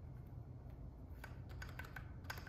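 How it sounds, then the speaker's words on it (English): Soft typing on a Keychron Q6 mechanical keyboard fitted with silent switches, a quiet run of muted, irregular key presses over a low steady room hum, heard close. "I mean, they're mechanical keyboards."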